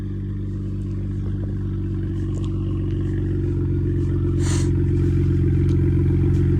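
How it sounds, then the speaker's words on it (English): A BMW 335 engine runs steadily nearby, a low even hum with faint clatter and a brief hiss partway through, no talking. "The car sounds pretty good."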